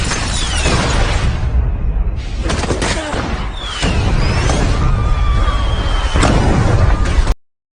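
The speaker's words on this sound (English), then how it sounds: "what was in those fireworks?" Fireworks bursting in an animated fantasy show, a dense run of booms, pops and crackling bursts through most of the stretch, loud and continuous with sharper cracks scattered throughout before cutting off abruptly.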